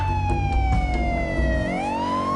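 A police siren wailing continuously and loud, its tone sliding slowly downward then sweeping back up, with low engine rumble underneath.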